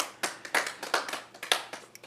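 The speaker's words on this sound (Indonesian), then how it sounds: "Tepuk tangannya apa Tuhan Yesus?" A brief round of scattered clapping from a small church congregation, uneven claps overlapping for about two seconds.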